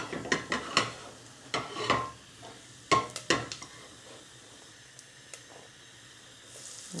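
Cumin seeds crackling in hot oil in a pan, faint sizzle with a few sharp clinks and stirring taps early on, then quieter hissing.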